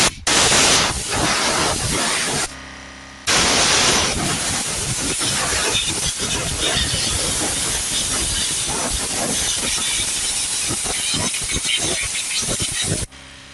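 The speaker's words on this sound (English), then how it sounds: "use a little air blower gun and just clean out the area down there." Compressed-air blower gun hissing steadily in long continuous blasts while cleaning out the engine area around the glow plugs of a Peugeot 2008 1.6 HDi, close and loud with a brief pause near the start.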